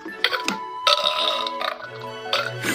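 A toy sound machine plays a recorded burp, a loud, close, gurgling belch lasting a couple of seconds, with button clicks around it.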